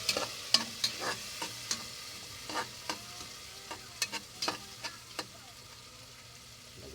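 Boiled mung beans being sautéed in a pan, a spatula scraping and tapping in a steady irregular rhythm of close clicks over a faint, constant sizzle.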